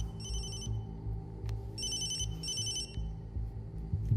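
A telephone rings with repeated electronic bursts, two-beat then double-beat patterns, sounding over low rumbling background noise in a Hindi action movie scene.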